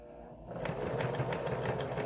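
A sewing machine runs a rapid, even zigzag stitch through a fabric mask, its close mechanical whirr starting up after a brief pause and continuing steadily.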